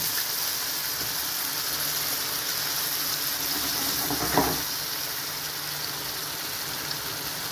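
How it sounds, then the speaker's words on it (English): Seafood and smoked bacon dish sizzling steadily in a hot pan, with a brief louder hiss and bubble as hot water is poured in midway, then settling back to a continuous fry. "At this point I'm going to add some hot water to it."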